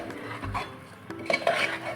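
A spoon scrapes and clinks against a pot while chili and turmeric are stirred into khichdi, a few short metallic strokes close by and fairly quiet, with a bump partway through.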